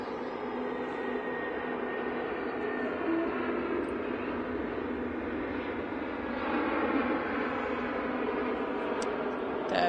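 Airbus A321neo airliner at Manchester Airport, a steady broad engine roar held at constant loudness for the whole stretch, with no talk over it.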